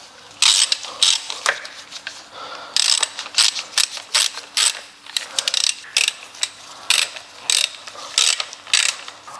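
A ratchet tightening transmission pan bolts on a Mercedes CLS, rapid bursts of close, crisp clicking in repeated strokes with short pauses between.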